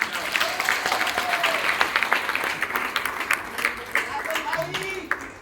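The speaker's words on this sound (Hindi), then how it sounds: "और सबसे ज्यादा तालियां पीछे वालों के लिए बजाइए" An audience at an Anti Corruption Foundation of India event applauds steadily, a continuous patter of clapping mixed with a speaking voice over the crowd.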